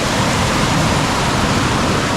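The river in Pucks Glen runs high and lively in the rain, a loud, steady broadband roar of rushing water filling the whole moment with no pauses.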